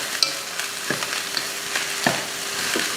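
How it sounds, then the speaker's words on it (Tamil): Rice mixed with coriander is stirred in a sizzling pan on the stove, with soft scraping strokes and clinks of the spoon against the pan over a faint steady fry, and no voices. "அடுப்பை சிம்மில் வச்சுட்டு கலந்துடலாம்."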